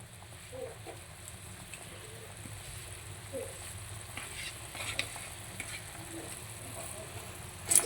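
Clam soup boiling in a pot, a faint, steady bubbling simmer with scattered small pops and occasional soft voices in the background.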